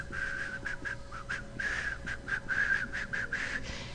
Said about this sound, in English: It is a breathy whistle.